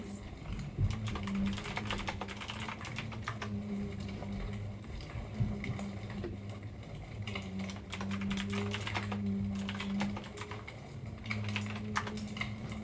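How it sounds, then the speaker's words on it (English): Rapid clicky keystrokes on a mechanical keyboard patter in irregular bursts, fairly quiet and close, over a low steady hum. "I apologize for the clicky clack of my keyboard"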